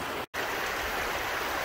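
Steady rushing flow of river water, a dense hiss broken by one brief dropout.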